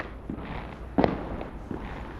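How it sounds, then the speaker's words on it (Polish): Distant gunshots, probably from a shooting range, crack out as three or four faint separate reports, one louder sharp bang in the middle, over quiet outdoor background. "Słyszycie strzały?"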